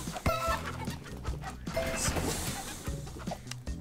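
Chickens cluck and squawk in bursts amid upbeat game music and effects in the video game Oddballers, the bird calls fairly prominent and close.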